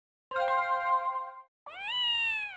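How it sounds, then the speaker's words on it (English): A cat in the intro of the N64 video game Chameleon Twist 2 gives two clear, drawn-out meows, the second rising slightly in pitch, loud and isolated against silence. "I've always loved this cat in the intro."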